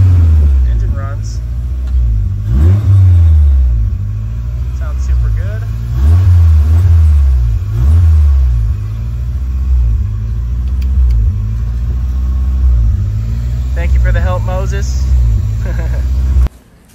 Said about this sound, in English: Engine runs.